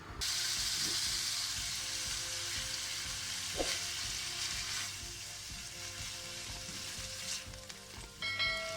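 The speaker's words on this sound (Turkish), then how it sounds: "Önce kıymamı zeytinyağında şöyle bir kavuracağım." About 400 grams of ground beef frying in two tablespoons of olive oil gives a loud, steady, close sizzle throughout, broken by a few sharp clicks and light stirring taps.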